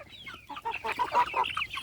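Chinese silkie chickens cluck in a short, busy run of overlapping calls close by, without talk.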